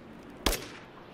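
A single sharp gunshot rings out in Rise of the Tomb Raider, loud and close against a quiet background.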